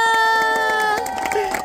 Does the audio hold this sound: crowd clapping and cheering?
yes